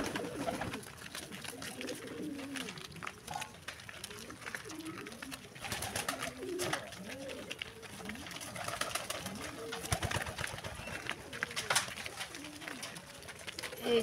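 Pigeons coo repeatedly in a close, busy flock while they peck at and eat bread at a farm, with wingbeats and scuffling mixed in and faint talk in the background.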